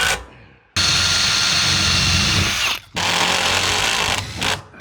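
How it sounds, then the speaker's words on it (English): A power drill whines loudly at close range in two long bursts while drilling into timber during tiny home construction, with a short pause between them and a brief spin-down at the end. "I'm just gonna drill this in."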